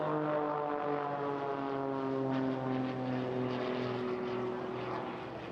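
Propeller aerobatic plane at the Bournemouth Air Festival, a loud, sustained droning engine with strong steady harmonics that shift slightly in pitch as it flies at full power, fading a little toward the end.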